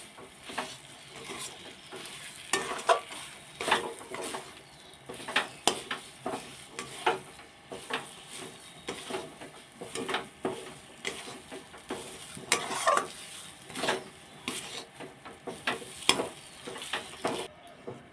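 A spoon stirs and scrapes a chhana and cardamom mixture for chire sandesh around a pan, with repeated scraping strokes, light clinks and a faint sizzle, close and without talk.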